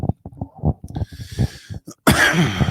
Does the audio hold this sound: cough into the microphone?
yes